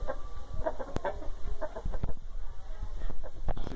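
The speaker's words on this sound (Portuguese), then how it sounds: "Esse frango carijó também aqui." Carijó rooster, a trained fighting bird, clucking in short repeated bursts close by, with occasional sharp knocks and steady farmyard background.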